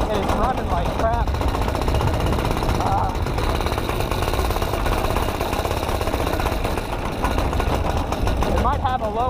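A small engine running rough and down on power, a loud continuous rattling, knocking drone close by that fills the whole stretch, with a voice talking over it.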